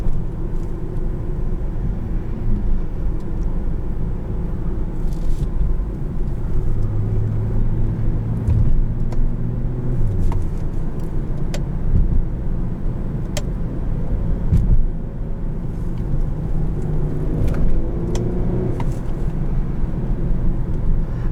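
Low, continuous engine and road rumble from a 2016 Infiniti QX70S, heard from inside the cabin as a steady, fairly loud drone with slight swells, no voices.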